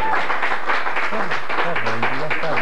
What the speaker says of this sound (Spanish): Bueno, fuerte el aplauso para Charlie.